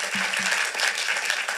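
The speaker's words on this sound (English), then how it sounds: "let's give our candidates a round of applause" Applause from the audience at a Burlington mayoral candidate forum, a dense steady wash of many hands clapping, loud and close throughout, with a faint low voice briefly beneath it at the start.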